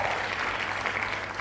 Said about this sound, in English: I'll give you a big clap.